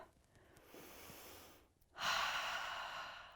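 A strong, airy inhale during a modified yoga flow as the arms lift, loud and close, with a quieter breath before it and no talking.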